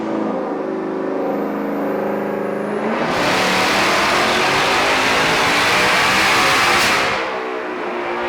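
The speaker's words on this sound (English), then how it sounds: "Watching the car on the dyno is insane." A Whipple-supercharged 2024 Ford Mustang Dark Horse running on E85 revs on a hub dyno, rising from a steady idle into a loud, sustained full-throttle roar for several seconds before easing off.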